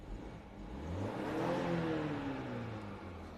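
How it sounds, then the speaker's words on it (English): A BMW 330e plug-in hybrid's petrol engine is revved once, rising smoothly to a peak and easing back down, heard moderately close and with no talking. "Give it a rev."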